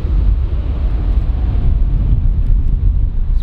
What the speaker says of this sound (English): Bloody windy up here today.